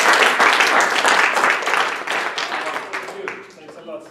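A conference audience at an environmental education event breaks into applause, dense clapping that starts loud and gradually thins and fades, with voices mixed in.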